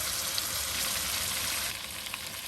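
Steaks sear in a hot skillet with a steady, close, bright sizzle that stays constant throughout, with no talking over it.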